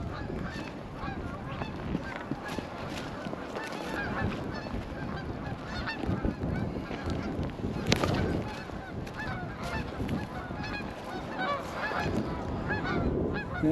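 Flock of geese flying north, a continuous chorus of honks, some closer and louder, overlapping irregularly against outdoor background noise.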